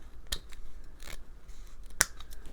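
Scissors snip through craft ribbon in a few sharp, close cuts, with quiet handling noise between the snips.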